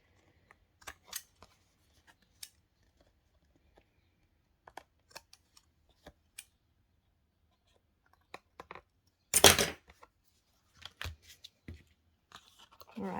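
Scissors make sparse, quiet snips while trimming card packaging for a pocket tag, with one louder rustling burst near the middle and faint handling noise between cuts.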